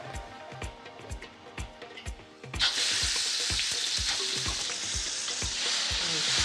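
Chili paste fries and is stirred in a pan for an Indonesian dish. Regular scraping taps of the utensil come first, then a loud, continuous sizzle swells up and holds to the end.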